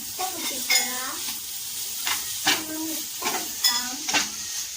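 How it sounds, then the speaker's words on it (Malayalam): Grated coconut stirred into mashed ripe plantain in a frying pan, giving a handful of separate scraping strokes over a soft, steady sizzle, close by with no talking. "തേങ്ങ നന്നായിട്ട് മിക്സ് ചെയ്യാം."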